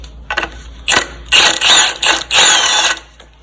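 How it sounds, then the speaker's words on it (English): A ratchet works loose 14 mm nuts and bolts on a 3.4 L Toyota 4Runner engine, giving several quick bursts of sharp clicking, close and loud, separated by short pauses. "It's a 14 millimeter. We're going to remove these."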